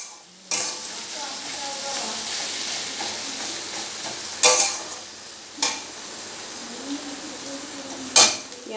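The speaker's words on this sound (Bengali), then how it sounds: "পেঁয়াজটা একটু ভাজা ভাজা হয়ে গেছে" Onions fry in a pan with a steady sizzle while being stirred, and a utensil clinks sharply against the pan a few times at intervals, close and fairly loud, with no voices.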